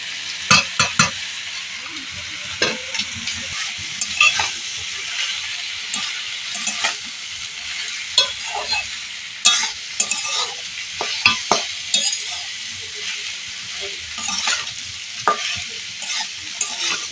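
A spoon stirs soaked flattened rice (chire) with masala in a pan, giving repeated scraping clicks over a soft, steady sizzle, close and moderately loud, with no talking.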